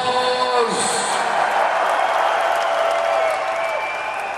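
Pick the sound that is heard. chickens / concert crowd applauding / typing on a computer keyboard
concert crowd applauding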